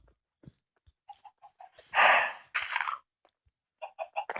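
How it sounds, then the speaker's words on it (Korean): Short clucks and soft squawks from a chicken, close by, in scattered bursts with a louder burst in the middle. "안녕, 꼬꼬"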